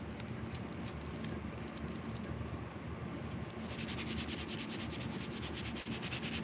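Steady rubbing and scraping of a sanding block on wood, quiet at first, then louder rhythmic back-and-forth strokes close by.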